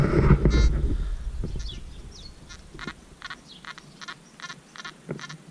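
A series of short, evenly spaced metal detector tones through wireless headphones repeats about once every half second, thin and slightly warbly, following a louder burst of handling noise at the start.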